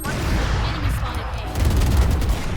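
Valorant gunfire rings out in a short cluster of quick shots after a pause, fairly loud against game ambience, with a voice faintly present underneath.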